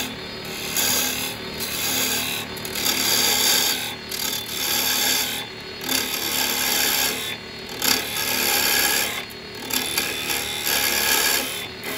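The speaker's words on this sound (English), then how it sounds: "I'm going to come in with my square chisel and I'm just going to come in at the side here like this." A square carbide chisel cuts into a wooden bowl spinning on a lathe, giving a continuous raspy, scraping hiss that swells and dips slightly as the tool works the side, close and steady with no talking.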